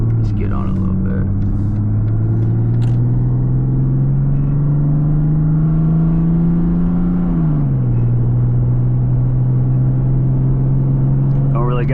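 A 1999 Mercedes-Benz engine pulls steadily while driving, its loud low drone rising slowly in pitch, then dropping as it eases off, with road rumble and voices talking throughout.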